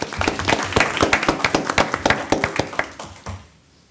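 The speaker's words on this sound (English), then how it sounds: "Let's clap." A room of people applauding at a county board of supervisors meeting, a brief burst of close, brisk clapping that fades out within a few seconds.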